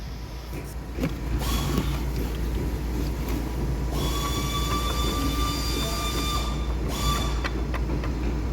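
A CRD diesel car engine with 16 valves runs at a steady idle with a broken rocker arm, giving a constant close mechanical drone with faint ticking and a whining tone.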